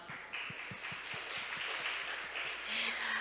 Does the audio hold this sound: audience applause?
yes